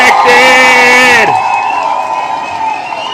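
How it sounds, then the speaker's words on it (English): A studio audience erupts with a loud, drawn-out whoop that breaks off after about a second. Crowd cheering and clapping continue beneath it and fade slightly toward the end. "let's give the beautiful Takesha a round of applause"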